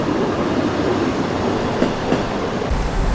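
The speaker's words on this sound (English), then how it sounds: "The train has arrived here" A train arriving at Interlaken Ost station rumbles steadily and loudly, with the roll of wheels on rails and faint clicks, and no voices over it.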